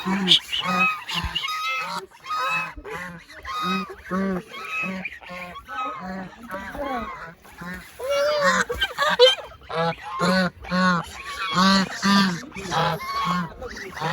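Domestic geese in a rural village yard honk repeatedly in loud, nasal, closely spaced calls, near and continuous, while people talk nearby.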